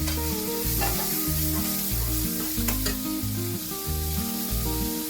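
Onion and finely chopped tomato frying in a pan with salt about to go in, a steady sizzle with stirring scrapes running throughout over low background music, close and fairly loud.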